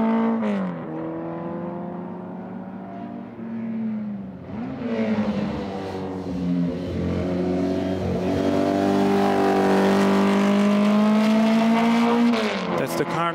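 A race car, the number 60 of Swiss driver Peter Vögele, runs at the Hungaroring with a loud, sustained engine note whose pitch climbs and shifts as it accelerates past. A commentator talks throughout.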